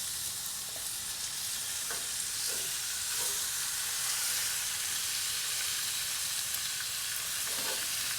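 Seasoned pork chops fry in a skillet, giving a steady loud sizzle and crackle that runs unbroken throughout, with faint scraping touches and no voices.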